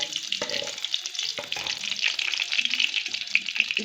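Garlic sizzles in heated oil for a palak tadka, a dense, close crackle and hiss that runs steadily throughout with small pops and faint clinks mixed in.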